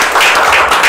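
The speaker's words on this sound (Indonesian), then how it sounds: "Sekali lagi apresiasi tepuk tangan yang paling meriah." Audience applause at a coffee industry event, a dense, steady wash of many hands clapping together for under a second, loud and close, with no voices audible above it.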